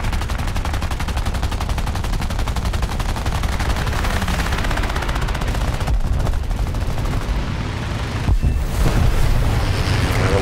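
Rapid continuous machine gun fire from a CR.32 biplane in War Thunder air arcade combat, loud and unbroken, with a brief drop near the end before firing resumes.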